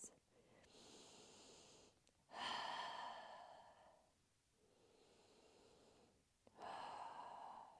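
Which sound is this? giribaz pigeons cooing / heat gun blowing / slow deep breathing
slow deep breathing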